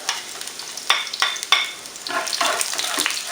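Onions, garlic and aromatics sautéing in a pan over lowered heat for a Kapampangan dish of quail egg and liver: steady close sizzle with repeated scraping stir strokes, no talk.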